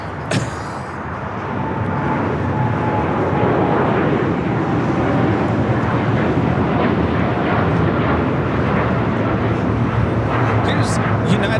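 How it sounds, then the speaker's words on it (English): A United Airlines Boeing 787-9 Dreamliner takes off from LAX, its loud, steady broadband jet roar filling the scene without pause, with a faint tonal whine riding over the rumble. "Here's United Airlines Flight 198 taking off to Shanghai on the 787-9 Dreamliner."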